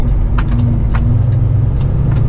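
Kenworth truck engine while driving, a loud steady low rumble with road noise and a few brief clicks and hisses on top, constant level throughout.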